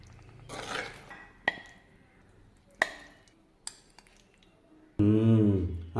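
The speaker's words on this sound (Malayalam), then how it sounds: "നമുക്കിത് ഒന്നുകൂടി ഒന്ന് ഇളക്കി വയ്ക്കുക." A spoon stirs a plantain stir-fry in a pan, making a few sparse, sharp metallic clinks and scrapes close by, followed by a short burst of voice.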